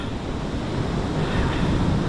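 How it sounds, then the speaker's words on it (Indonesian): Big ocean waves on the south coast beach at Parangkursi, a continuous loud roar of surf mixed with wind noise on the microphone. "ombaknya gede ya soalnya pantai selatan ini"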